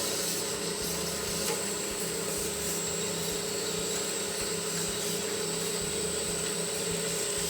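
A SIDAMO SR 276 DAV band saw runs with a steady, loud mechanical hum and whine that holds without a break from start to finish.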